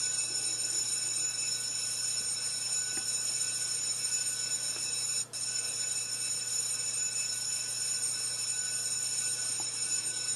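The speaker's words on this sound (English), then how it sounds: "Now the alarm is sounding." Door alarm from a house access control system sounding as a continuous high-pitched electronic tone, steady and fairly loud, with a brief dropout partway through.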